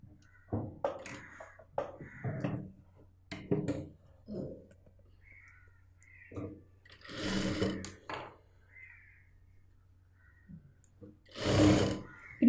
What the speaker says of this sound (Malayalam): ഇവിടെ മുതൽ സ്റ്റിച്ച് ചെയ്യാം.